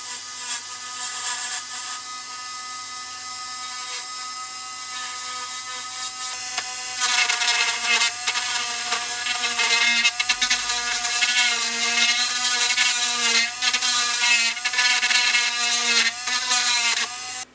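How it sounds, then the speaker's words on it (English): A small drill whines steadily while boring out epoxy and re-drilling holes in a Trabant ignition Hall sensor housing, growing louder and harsher midway with brief grinding surges, close and continuous. "I removed the epoxy and re-drilled the holes"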